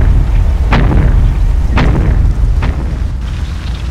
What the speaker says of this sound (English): This is the bouncing grenade, I think.